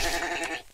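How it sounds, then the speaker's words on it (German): A short sheep bleat from the video game MineClone5 (Minetest), a single wavering nasal cry lasting under a second, fairly close and clear with no talk over it. "Ah, weiße Schaf."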